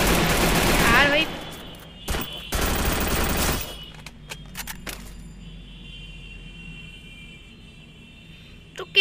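Gunfire in the battle royale video game Free Fire: two loud rapid automatic bursts, each about a second long, are followed by a few scattered sharp single shots over a quieter game background.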